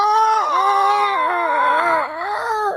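A person's voice imitates a creature's long, loud, reptilian screeching and growling howl for a Dungeons & Dragons Spelljammer campaign, wavering in pitch for about three seconds without a break.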